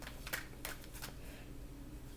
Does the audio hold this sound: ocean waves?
no